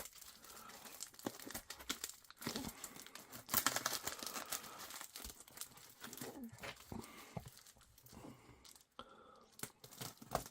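Crinkling and tearing of packaging as it is cut open to unwrap two vintage Parker 51 fountain pens, with irregular close crunches and rustles of varying loudness throughout.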